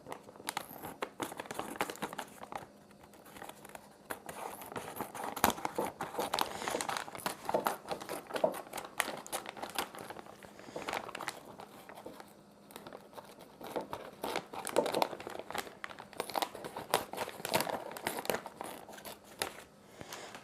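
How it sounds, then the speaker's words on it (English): Scissors cut a plastic bag used as a flower-arrangement container liner, with close, quiet crinkling and crackling in an irregular, continuous stream, no speech. "Now we're just going to cut the bag off."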